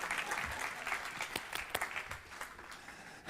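A church congregation applauds a woman after she sings, giving a faint, distant wash of scattered clapping that holds steady throughout with no voices over it.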